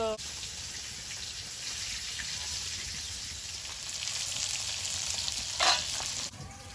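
Koi fish fry in hot oil in a pan, giving a steady, close sizzle that lasts throughout, with a brief louder crackle and clatter near the end as the fish are turned.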